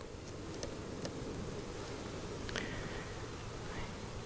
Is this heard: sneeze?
no